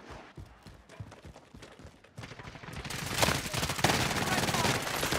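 Video game gunfire from a weapon called the stoner, a dense burst of automatic shots building louder and more continuous through the second half, with faint talk mixed in.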